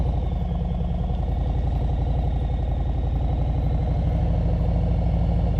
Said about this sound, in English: Always gonna hear that throttle elevated if I'm doing anything slow speed